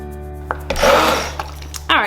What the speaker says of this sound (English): Now I'm gonna take an immersion blender and just blend the soup up.